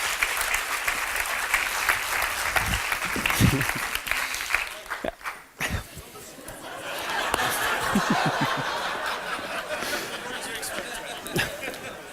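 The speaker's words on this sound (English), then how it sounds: "Give yourself a massive round of applause." An audience breaks into sustained applause with scattered laughter and chatter, dipping briefly midway before a second loud swell of clapping fills the room.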